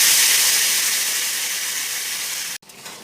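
Water poured into a hot pan of soya chunk curry, giving off a loud, steady hiss of steam and sizzling that cuts off abruptly, leaving a faint bubbling simmer.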